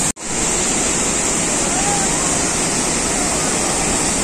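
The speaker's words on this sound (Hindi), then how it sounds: "दोस्तों यही है सिन्मा वाटरफॉल" Chinma waterfall roars in a constant, loud, dense rush of falling water after a brief knock at the very start, with no speech over it.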